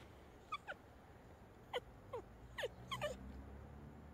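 Dogs whimpering and yipping in short, high-pitched squeals, several spaced-out cries over a quiet outdoor background.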